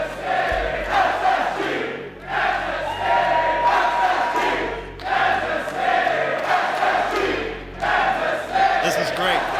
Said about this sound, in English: You can let the crowd speak for us.